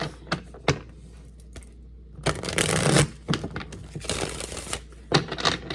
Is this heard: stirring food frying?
no